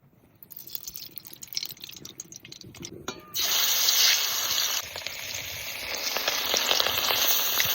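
Silver carp frying in mustard oil starts as a lighter, uneven crackle with small clicks, then swells suddenly into a loud, steady sizzle that holds to the end.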